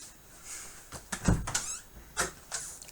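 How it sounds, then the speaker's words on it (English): An indoor door in a house opens or closes, a few soft knocks and rattles with one firmer thud near the middle, fairly close. "There goes the door again."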